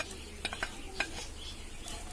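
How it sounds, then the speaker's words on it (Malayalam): Chopped coconut pieces fry in a pan with a faint steady sizzle, broken by a few scraping stirs of a spoon against the metal. "തേങ്ങയും നല്ല ബ്രൗൺ കളർ വരെ വറുത്തെടുക്കണം."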